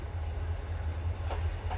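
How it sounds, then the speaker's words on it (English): A freight train climbs a grade on a rural line near a grain spur, heard as a steady, heavy low rumble throughout with faint clanks and a couple of brief higher squeals or clicks toward the end. "here comes the train, coming up a grade."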